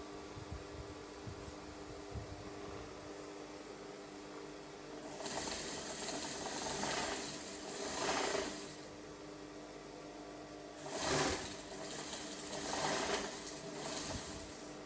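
A sewing machine stitches horsetail crinoline onto a 720 peplum flare, its fast whirring mechanical hum running in two sustained bursts over a quiet background hum.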